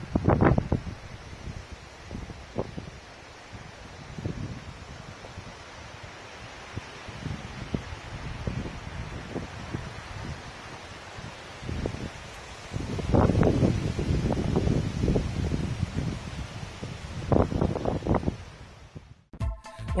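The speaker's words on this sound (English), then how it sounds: "I was riding and stopped for a break and realized that I couldn't hear anything but the wind." Wind blowing outdoors during a rest stop on an off-road ride, a steady rushing hiss with stronger buffeting gusts that rumble against the microphone, with no other sounds.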